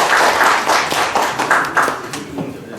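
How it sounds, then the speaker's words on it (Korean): A lecture audience claps in brisk, close applause to welcome a professor before his special lecture on the Fourth Industrial Revolution. The clapping is loud at first and tapers off within three seconds. "자, 큰 박수 부탁드립니다."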